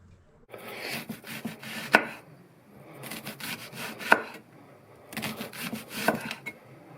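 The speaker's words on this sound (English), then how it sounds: "to get these really thin slices, I am using my Vostede Morgan series chef knife" A Vostede Morgan series chef knife thinly slices onion on a board, three quick bursts of rapid, even cuts with sharp taps between them and brief pauses.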